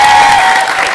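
A theatre audience at a stage show claps loudly for an individual performer, a brief, dense burst of applause close to the listener that tails off slightly at the end.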